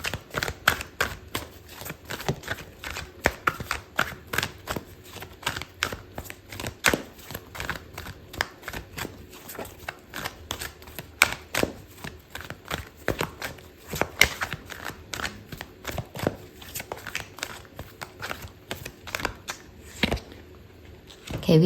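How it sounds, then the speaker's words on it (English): Tarot cards riffle and slap in a continuous, busy shuffle for a Sagittarius love reading, close and crisp with many sharp flicks and taps. "Okay, so I'm going to pull out a card for your advice"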